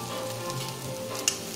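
Thinly sliced onions sizzle in hot oil with a steady, moderate hiss and a faint stirring clink near the end, close by with no voices.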